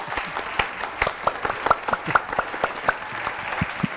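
A TV studio audience applauding, brisk, dense clapping that carries steadily at close range with no voices over it.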